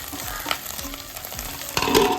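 Small prawns with chopped onion sizzling and frying in hot oil in a pan, a steady close crackle with occasional stirring scrapes and a louder burst of spitting near the end.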